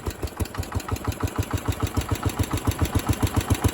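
A 1968 Case 155 tractor engine runs at raised throttle with a steady, even chugging beat, loud and close, and no voices are heard.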